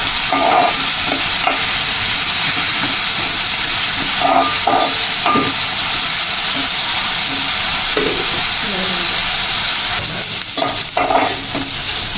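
Onions frying and sizzling in a pan while being stirred, with a steady loud hiss throughout and scraping stir strokes recurring every few seconds; no one speaks.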